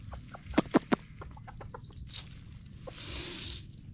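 Chickens cluck in a quick burst of three sharp, close calls followed by softer scattered clucks and a rustling flutter, with no talk.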